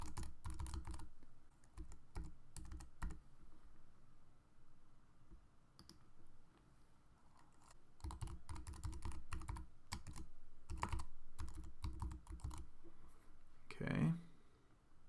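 Computer keyboard typed on at a desk while entering account details, irregular bursts of quick close clicking keystrokes with pauses, under someone speaking quietly at times.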